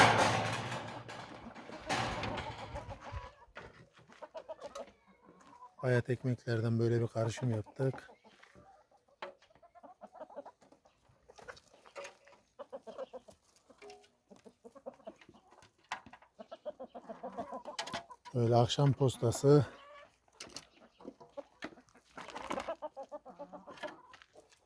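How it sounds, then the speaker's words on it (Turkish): Lohmann Sandy hens cluck and squawk close by in irregular bursts while pecking at food in a coop, with a person speaking intermittently between the calls. "Tavuklarımız keyifli bir şekilde yiyor."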